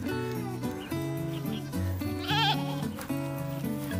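Backyard goats bleat in their pen, several wavering, nasal cries overlapping one after another at close range, with one higher, quavering call standing out partway through.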